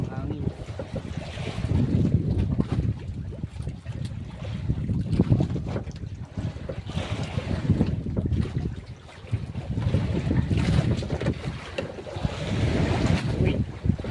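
Wind buffets a fishing boat at sea, gusting and roaring over the microphone in uneven surges with water motion beneath, and a voice speaks briefly at times.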